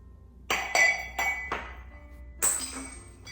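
A glass oil vessel breaking while handled among thrift-store glassware: several sharp clinks and chinks in quick succession, then a brighter crack of glass, close and alone.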